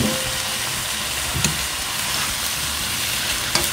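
Shrimp sizzle in a pan of half-cooked vegetable stir-fry, a steady, close hiss of frying with a couple of brief utensil knocks against the pan and no talking.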